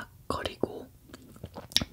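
A giant fan-made meringue cookie crunching between the teeth in a close-miked eating session, with a few sharp crisp bites and crackles under soft whispered talk.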